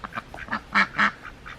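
A dual-purpose heritage breed duck quacks several times close by, a quick series of short nasal calls with the two loudest in the middle.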